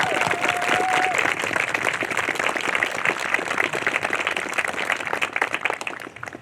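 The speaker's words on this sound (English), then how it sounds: "Please join me in a round of applause for the Navy's newest third-class petty officers" A graduation audience at a Navy Nuclear Field A School ceremony applauds newly promoted third-class petty officers, with dense, sustained clapping from a large crowd. A brief tone sounds early on, and the applause holds steady before thinning slightly at the end.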